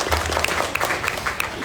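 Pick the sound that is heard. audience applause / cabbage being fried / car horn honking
audience applause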